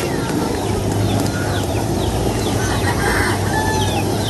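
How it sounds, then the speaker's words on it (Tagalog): Several hens cluck and chatter nearby in a busy, overlapping stream, with a rooster-like call rising among them over steady outdoor noise, as they come to greet their owner. "At ang mga alaga ni Bossing na manok sumasalubong na po sa kanya."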